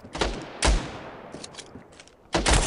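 Gunfire in the Standoff 2 shooter game: a few sharp, loud bursts with short gaps and some lighter clatter between them, close and with no talking.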